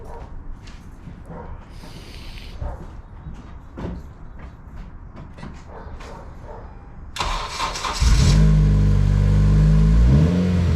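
A boosted Honda Civic with a dead battery is cranked. Faint clicks and shuffling are followed by the engine turning over, then a loud, steady mechanical drone close by.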